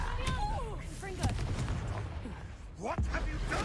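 The Confringo fire spell is cast in Hogwarts Legacy, producing sharp, bright blasts: a burst near the start, another around the middle, and a final crack, mixed with whooshing effects and creature cries.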